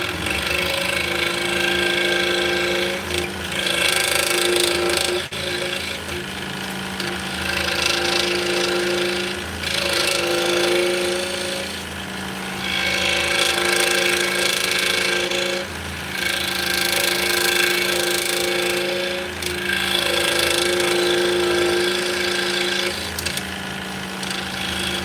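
A scroll saw buzzes steadily as it cuts through wood, its whine rising and easing in repeated passes over a constant motor hum.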